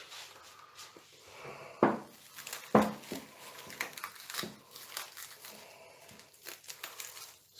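Salt-cured duck breast being unwrapped from its packaging, with close, loud crinkling and crushing bursts, two sharp peaks early on, then scattered rustles and handling noises.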